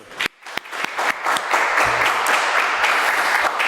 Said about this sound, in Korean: 앉아주세요. 박수.